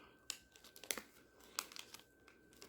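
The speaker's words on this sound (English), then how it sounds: "We're just going to rip that bad boy open." A pull-tab foil packet of Color Street nail strips is torn open, producing soft crinkling and a few sharp ripping bursts, close and quiet with no talking.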